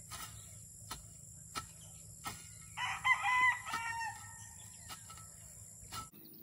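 A rooster crows once in the middle distance, a short harsh call rising over a steady outdoor hum with faint insects and occasional knocks.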